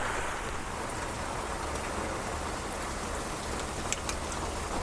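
Steady rain falls on a farm, a constant dense hiss of drops throughout with a few sharper nearby drips near the end.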